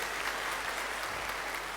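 Crowd at an anniversary gathering applauding, a steady, fairly faint spread of many hands clapping with no voices over it.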